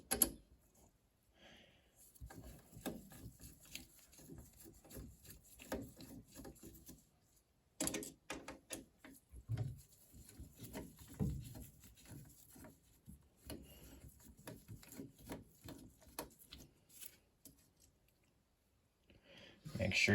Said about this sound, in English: Now we can go ahead and take out our two screws right here